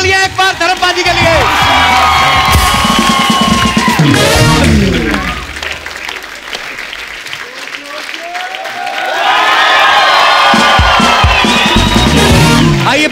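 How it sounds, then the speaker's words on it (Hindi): Studio audience at a Hindi comedy show cheering and applauding for a veteran film star, with loud bursts of clapping and whooping at the start and end around a quieter middle stretch with voices. "जोरदार तालियां एक बार धर्म पाजी के लिए।"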